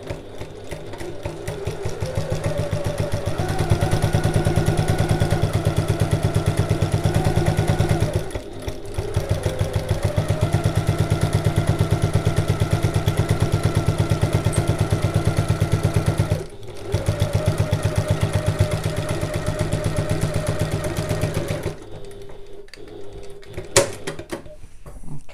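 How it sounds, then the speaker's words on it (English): A sewing machine runs in long, steady, rapid stitching bursts along a bag lining seam, pausing briefly twice before stopping near the end. "I'm just going to sew along the entire length of that seam"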